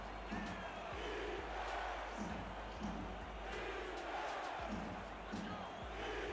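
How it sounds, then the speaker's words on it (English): A football stadium crowd in Buffalo roars on its feet, a continuous dense wall of cheering at steady volume, with commentary likely running underneath. "Crowd here in Buffalo on their feet"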